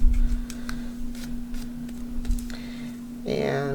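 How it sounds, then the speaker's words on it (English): Tim Holtz 5-inch titanium snippet scissors snipping away tissue paper, a run of quick crisp cuts and rustles close by, with a steady electrical hum underneath and a voice starting at the end. "And just cut away a lot of that tissue paper."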